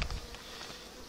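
A faint, low buzzing of many bees around a hive, steady and soft, heard from close by without any voices.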